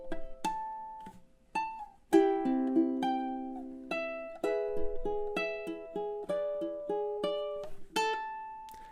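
A solo ukulele picks the next section of House of the Rising Sun fingerstyle, opening with a harmonic hit and followed by steady rolling arpeggios of ringing plucked notes.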